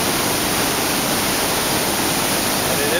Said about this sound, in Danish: Så står jeg heroppe på toppen af vandfaldet